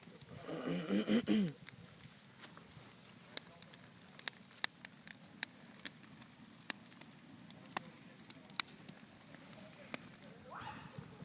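Rain falls outside, heard as sparse, sharp drips tapping on a hard surface at an irregular pace after a brief burst of voice.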